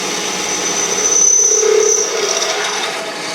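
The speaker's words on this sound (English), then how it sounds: "The easy part's done. The holes are drilled." A power drill bores holes through a scooter deck, a steady grinding whir with a brief higher-pitched whine in the middle, close and fairly loud for a few seconds.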